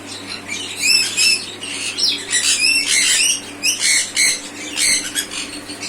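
A pair of adult sun conures in an aviary give loud, close, harsh squawks in repeated bursts, rising and falling over several seconds against a low steady hum.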